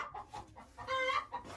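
A hen clucks inside a henhouse, giving a few short, close clucks and then a longer, drawn-out cackle, with no voices.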